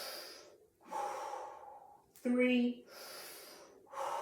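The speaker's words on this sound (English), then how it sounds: "Breathe in through the nose." Slow, deliberate breaths during a guided stretching exercise, drawn in and let out through the nose and mouth in long swells, close and clear, with a brief spoken count between them.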